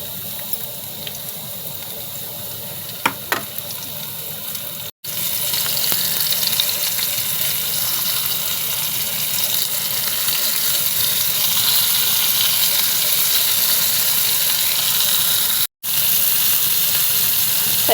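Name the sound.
Bombay duck fish (bombil) frying in oil on a hot griddle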